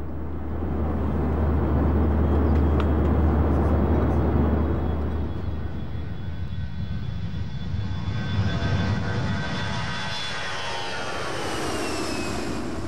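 Jet engines of an Airbus A320-family narrow-body twin-engine airliner roar loudly, a deep rumble easing into a rising whine that climbs steadily as the aircraft passes, with no talk.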